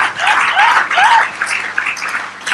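A church congregation bursts into brief clapping and cheering, a lively crowd of hands and raised voices lasting a couple of seconds.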